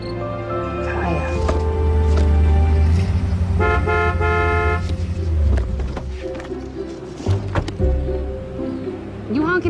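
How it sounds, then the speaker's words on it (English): A car horn honks in several loud close blasts, some long and some short, amid engine rumble and background voices. "You honking at me?"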